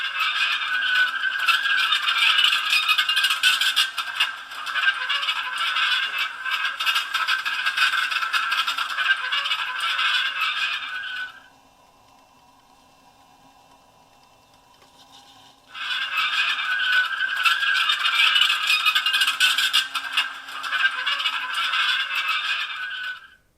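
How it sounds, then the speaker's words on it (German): Small gauge 1 battery-powered Dingler Ks/Ka shunting locomotive starting off, a steady close rattling, scraping mechanical whir that runs continuously, drops out for a few seconds of near silence, then resumes at the same level. "Ich schalte das jetzt ein und fahre mit der Lok an."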